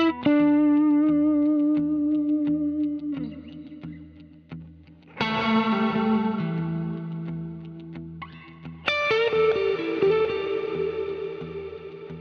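Electric guitar through a free reverb effect plugin, heard alone: sustained chords ring out with a long, spacious reverb tail, then two fresh strums bloom and decay in a wash of echo.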